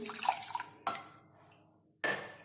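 Water is poured in short bursts into a finely ground fennel mixture, with a trickling splash, a sharp clink, a pause, then another burst of pouring. No speech.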